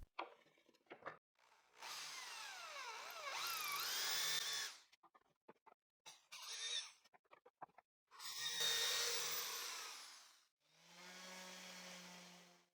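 A power drill with a 3.5mm bit and 10mm countersink bores into wood in several separate bursts, each whining up with rising pitch and ending abruptly, with short pauses of handling noise between.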